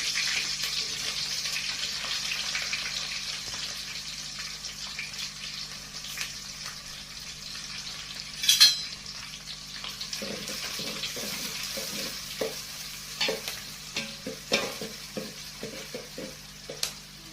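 Onions go into a hot pan and fry in a temple kitchen, a soft continuous sizzle with scattered stirring scrapes and clatters growing busier toward the end, no voices.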